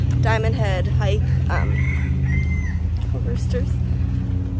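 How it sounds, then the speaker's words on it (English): A rooster crows nearby on Oahu, Hawaii, over steady low engine rumble, with a few voices and other bird calls mixed in. "Roosters."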